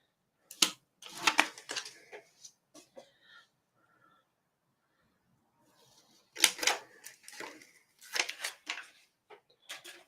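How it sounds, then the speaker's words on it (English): Adhesive backing being peeled from a sticker-like stamping block, heard as close, crisp ripping and crackling bursts in two clusters separated by a quiet gap, with no talk. "So let's peel off this backing."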